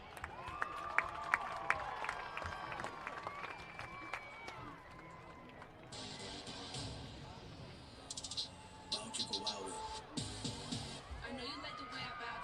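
A crowd cheering for the ADM dance team at a varsity football game, a broad roar of shouts and whistles in a big outdoor space, mixed with busy stadium noise and voices.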